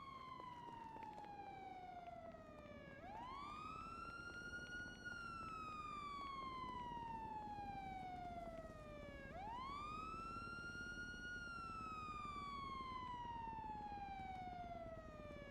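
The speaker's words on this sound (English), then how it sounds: "I'm gonna lose my fucking mind if the siren keeps going off" Police car siren in the GTA V NoPixel roleplay video game, a loud continuous wail that sweeps down slowly and jumps back up in two long cycles, with no talk over it.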